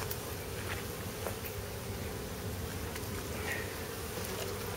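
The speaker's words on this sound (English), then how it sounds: "there's a whole bunch of bees that were congregating to this rock" Steady insect buzzing from many bees gathered on a rock, a continuous drone with individual buzzes passing close by, over faint outdoor background noise.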